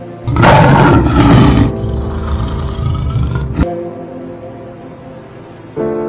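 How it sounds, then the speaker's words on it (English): A lion lets out one loud, rough roar up close that cuts off sharply, followed by low rumbling and a fresh burst at the very end. "Lion."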